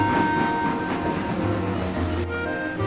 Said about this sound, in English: Thomas trundled sadly for Adams Junction with a small train of coal trucks